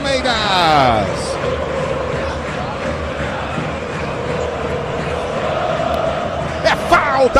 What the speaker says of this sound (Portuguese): Levanta a torcida do Palmeiras